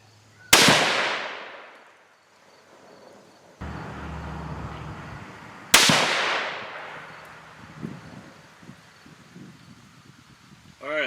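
Two loud, sharp 6.5 Creedmoor shots from a lightweight rifle firing Sierra Game Changer 130gr loads with H4350 powder, each followed by a long fading echo, with a clunking bolt or handling noise between them and faint rustling afterward.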